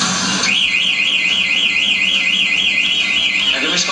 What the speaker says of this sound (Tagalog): tapos nag-a-alarm na yung kotse